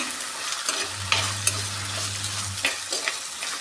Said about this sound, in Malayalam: ഒരു മീഡിയം സൈസ് വലിപ്പത്തിലുള്ളൊരു സവാളയാണിത് അത് എങ്ങനെ നമ്മൾ സ്ലൈസായിട്ട് എടുത്തിട്ടുണ്ടാണ് അതും കൂടി എത്തിയിട്ടുണ്ട് നന്നായിട്ടൊന്ന് വഴറ്റി കൊടുക്കുകയാണ്